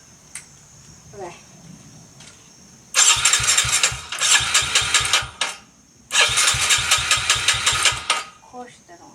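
A Yamaha TTR110 dirt bike fitted with an FMF exhaust sputters into life in loud bursts, revving in choppy pulses with brief gaps between runs, close to the listener.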